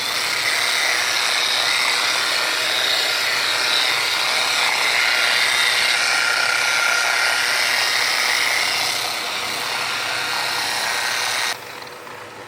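Car polisher buffing a Ferrari fender at low RPM, a continuous close whirring drone with a broad hiss, steady for most of the time and easing slightly near the end before cutting lower.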